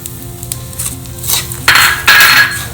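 Raisins, dates and roasted poppy seeds are stirred together in a hot pan for edible gum laddu, giving soft scraping and stirring with a few sharp clinks of a utensil against metal that grow louder and brighter toward the end.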